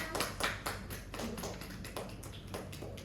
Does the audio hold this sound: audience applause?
yes